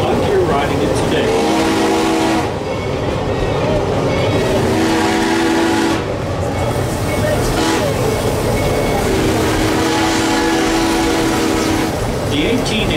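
The Georgetown Loop Railroad train rolls along with a steady loud rumble of wheels and cars, while someone talks over it throughout.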